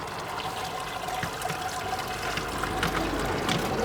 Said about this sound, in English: So we're just going to slowly pour that in.